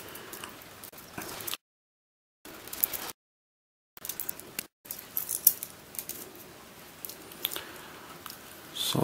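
A stiff vintage twisty puzzle with stickered faces being turned, giving bursts of plastic clicks and scraping cut by short silent gaps, close and faint.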